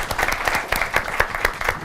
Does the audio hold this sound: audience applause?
yes